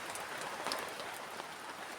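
Rain falls at night in a forest as a soft, even patter of drops on leaves and surfaces, with a few slightly sharper drips standing out. It is fairly faint, with no talking.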